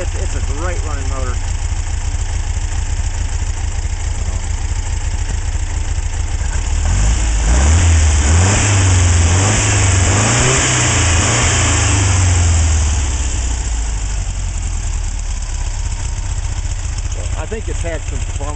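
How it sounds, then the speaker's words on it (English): A 1967 Volkswagen Westfalia camper bus engine runs steadily close by, a continuous loud idle with a brief rise in revs midway before settling back. "It's a great running motor."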